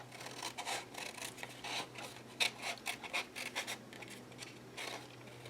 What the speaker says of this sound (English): Bring in my scissors and cut that shirt out.